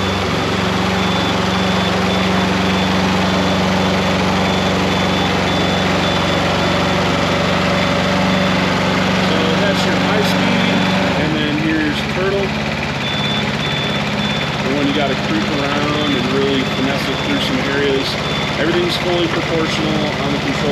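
A compact tracked spider lift runs in high track speed, its engine a steady loud drone with a deep hum that shifts pitch partway through, continuous and close, with no one speaking.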